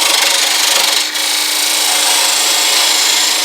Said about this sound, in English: take my parting tool and get this parting cut